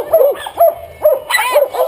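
Dogs bark loudly and close by in a quick series of sharp, repeated barks along a trail on a mountain-bike trip across Iberia.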